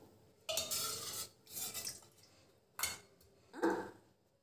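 Fried green chillies and tomato go into a pan in a kitchen, heard as four separate bursts of scraping, clattering and stirring against the pan, close and moderately loud, with quiet gaps between them.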